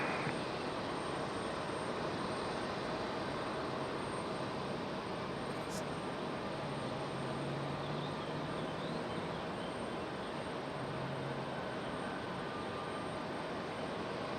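A steady, faint distant rumble comes from an Airbus A220-300 airliner arriving at Raleigh-Durham airport on a stormy day, a continuous broadband drone under a thin high whine, with no talk.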